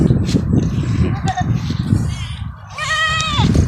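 An Anglo-Nubian or Boer goat on a farm lets out a loud, wavering bleat near the end, with other bleats and rustling farm sounds around it.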